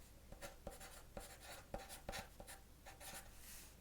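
A pen scratches across paper during an in-home hair consultation, with quiet irregular strokes and taps repeating steadily, close and soft in an ASMR setting.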